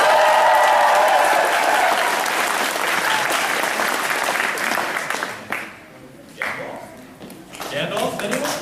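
Audience applause at a fan club meeting, loud sustained clapping and cheering from a room full of people that fades out, followed by scattered voices.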